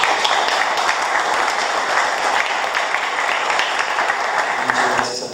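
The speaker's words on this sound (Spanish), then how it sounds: "pido un aplauso para nuestros invitados del día de hoy" A seated audience applauds guests at a literary anniversary event honoring Juan García Ponce, a steady dense wash of clapping that fades at the very end.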